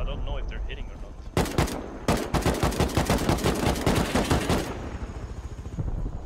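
A player fires rapid, loud automatic gunfire in the Rust video game, two sustained bursts of dense, evenly spaced shots close up, separated by a short pause, with faint background ambience before and after.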